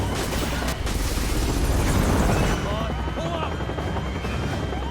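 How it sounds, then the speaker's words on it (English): A helicopter flies during Resident Evil 6 gameplay, with a loud, continuous rotor roar and game effects that ease slightly partway through. "Oh, Wayland can also just conveniently fly a helicopter"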